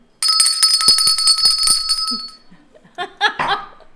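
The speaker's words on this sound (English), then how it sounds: "We got you a bell." A handheld bell rings briskly several times on a live cafe TV stream, bright and close, then gives way to laughter and voices.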